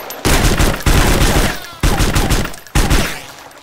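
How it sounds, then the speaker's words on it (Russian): Silenced weapon fire in DayZ, four loud close bursts of dull rapid shots, each cutting in sharply and trailing off, with no voices over them. "Кто тут глушитель стреляет?"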